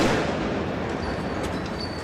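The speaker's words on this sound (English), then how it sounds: "One of the devices explodes as a police robot tries to disarm it this morning." A small improvised explosive device, a bomb in a backpack left in a garbage can outside a train station in Elizabeth, New Jersey, goes off as a police robot tries to disarm it: a dense, rumbling burst heard from a distance.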